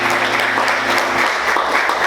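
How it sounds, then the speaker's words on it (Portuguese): A church congregation applauds loudly during a sermon: dense, sustained clapping from many hands that fills the whole stretch evenly, close and full, with no talk over it. "Você pode aplaudir Jesus bem forte."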